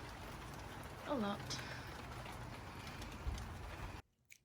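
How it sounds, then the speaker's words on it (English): Heavy rain falls steadily as a dense, even hiss that fills the whole stretch, with a faint bird chirp and a brief spoken remark over it, then cuts off abruptly near the end. "And it's raining"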